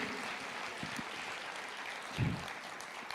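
Congregation applauding during a church sermon, a soft, continuous hiss of many hands clapping heard from a distance, with one or two slightly louder thumps near the end.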